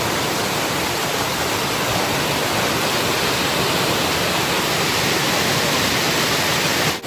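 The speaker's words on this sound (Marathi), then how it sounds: "जो आमचा हा धबधबो" Steady, loud rush of a village waterfall called Brahman Dev, a dense broadband roar of falling water filling the whole stretch without pause, no voices over it.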